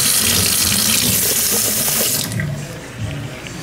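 Hot water running from a tap into a sink, a loud, steady close-up rush that cuts off after about two seconds, leaving quieter dripping and room noise.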